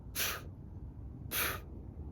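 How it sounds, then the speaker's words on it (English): Two short, forceful breathy blasts about a second apart, dolphins exhaling sharply at the surface, with quiet background between them. "a group of dolphins swam by, and you could hear them surfacing and breathing"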